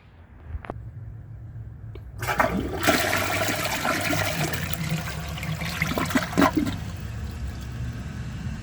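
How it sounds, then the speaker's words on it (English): Flush of a 2017 Sterling Windham 1.28 gallon toilet: a sudden loud rushing swirl of water close by that holds steady for about four seconds, then cuts off abruptly, leaving a faint trickle as the tank refills. "So let's give this a flush and see how it does on tests."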